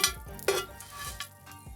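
Chunks of beef go into a Dutch oven set inside a Weber charcoal grill, with a few soft metallic knocks and brief hissing sizzles near the microphone, no voices.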